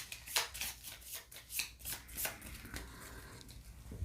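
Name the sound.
shuffling a deck of board game cards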